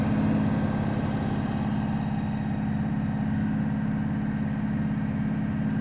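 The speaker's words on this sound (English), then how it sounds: "Now we're going to give gas and bring the RPM up to 20 to speed up the air gauges refilling" A bus engine runs at raised RPM during an air brake pressure test, a steady low diesel drone holding even and continuous with a faint whine above, no voices present.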